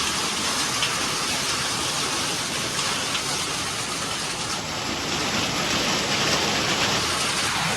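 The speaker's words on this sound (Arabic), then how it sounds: "هذا مطر قوي" Heavy rain pours outdoors in a steady, loud, dense wash of drops that continues without break, with a faint high whine appearing partway through.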